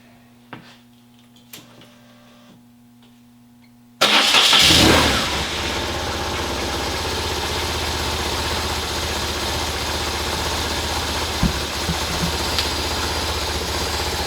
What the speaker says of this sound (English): then I'll start the engine and we will find out together